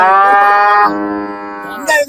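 A single cow at Manapparai cattle market, a trading ground for dairy cattle, lets out one long, loud, close moo lasting about two seconds; a brief rougher bellow follows near the end, with no talk over it.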